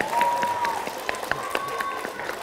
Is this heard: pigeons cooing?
no